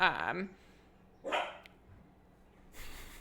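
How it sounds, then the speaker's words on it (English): Several dogs bark excitedly in bursts, starting loud up close, then a second outburst and a fainter one later, cutting across a person talking nearby. "oh my gosh, the dogs are excited today."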